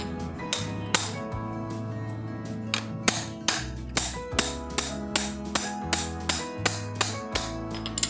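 Repeated hammer blows tightening the CVT pulley on a Yamaha Mio scooter, a dozen or so sharp metallic strikes in a fairly steady rhythm, close and loud, with ringing clinks between hits and no talk.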